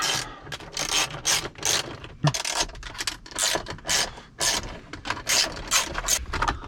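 A 10mm socket on a ratchet being turned in a new Corvette, giving rapid rasping clicks in repeated bursts of strokes, close and fairly loud, with no talking.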